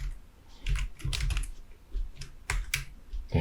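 Computer keyboard keys pressed during spreadsheet work in Excel, a quiet run of irregular clicks and taps with a few quicker clustered keystrokes.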